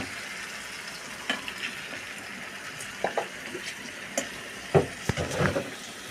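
Chicken and vegetables sautéing in a pan give a steady, close frying sizzle, broken now and then by the clatter and scrape of stirring, with no voices.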